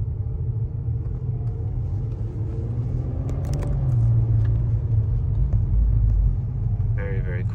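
A 2008 Volkswagen R32 engine under way, a low steady rumble that swells as the car pulls and shifts down, with road noise throughout and a voice speaking over it.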